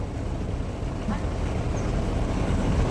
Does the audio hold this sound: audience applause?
no